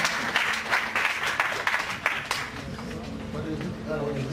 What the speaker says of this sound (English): So just give a hand of applause to Awale.